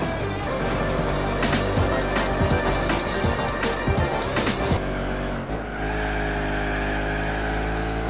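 Race car tires squeal and skid through a drift in Gran Turismo 4, with repeated sharp screeches over a loud, continuous engine roar that settles into a steadier drone near the end.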